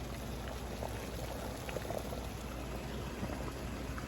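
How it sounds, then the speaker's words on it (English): Water bubbling at a vigorous rolling boil in a stock pot, a steady dense burbling hiss, close and fairly quiet, with no voices. "So now that we have rapidly boiling water"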